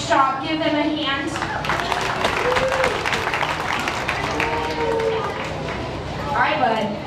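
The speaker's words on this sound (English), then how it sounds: "Give them a hand." Crowd applause at a county fair livestock show, clapping mixed with loud chatter and announcer-style talk throughout, the clapping swelling near the start and again at the end.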